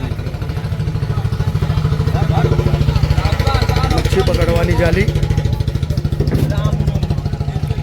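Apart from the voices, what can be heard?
fishing boat engine running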